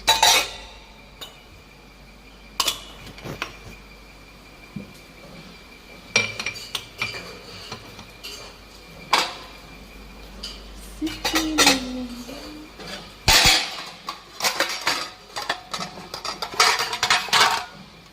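Ceramic bowls, lids and mixer jars clink and clatter as they are set down and arranged in a home kitchen, with sharp, irregular knocks close by and no talking.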